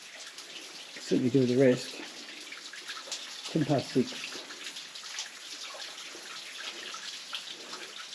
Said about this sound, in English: And it's also running water just next to it, which is pretty good.